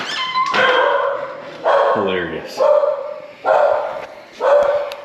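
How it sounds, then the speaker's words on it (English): A dog in a home office barks repeatedly, with about five loud, close barks mixed with yips and whimpers, while a person talks over them. "My dog's gonna bark"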